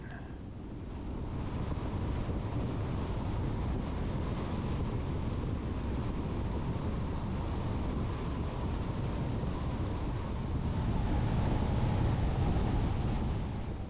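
Steady desert breeze buffets the microphone on a ride, a dense continuous low rumble of wind noise with no gaps, growing slightly stronger near the end.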